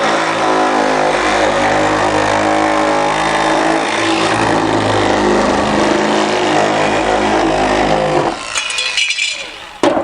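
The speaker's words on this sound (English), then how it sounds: "now we're going to use the cordless shear just to trim this final stuff off" Cordless shear trimming an aluminum Jaguar E-Type bonnet panel, a loud steady mechanical whine running continuously that cuts out near the end with a few metallic clinks.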